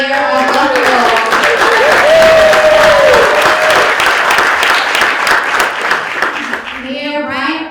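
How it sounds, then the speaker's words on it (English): Loud audience applause fills a hall at a mayoral forum of a Black and Puerto Rican legislators workshop, sustained clapping with a voice speaking over it before the clapping thins out at the end. "Let's give her a round of applause."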